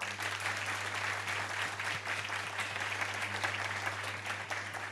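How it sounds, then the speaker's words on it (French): Audience applause on an Ivorian Saturday-night variety show welcoming a performer; steady, even clapping from a studio crowd, fairly distant and soft over a low electrical hum. "Merci d'applaudir Monsieur Bomou Mamadou"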